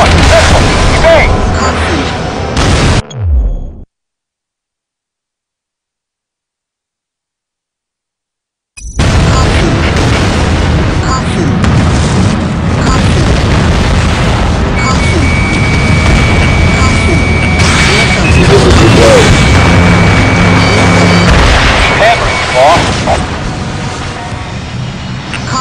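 Explosions and heavy combat noise from the Ace Combat Assault Horizon jet fighter game, loud and dense throughout, cut by a few seconds of silence, with radio-style voices heard over the blasts.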